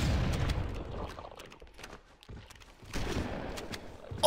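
Gunfire in the video game Halo CE comes in rapid bursts of sharp shots, loud at first, thinning into scattered pops, then swelling again into another burst.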